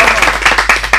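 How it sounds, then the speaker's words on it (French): A burst of clapping from a small group, uneven and lively, with a faint low hum underneath. "Mais on l'applaudit."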